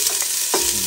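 Garlic and onion frying in a pan, a steady bright sizzle broken by quick stirring scrapes, heard close up and with no voices.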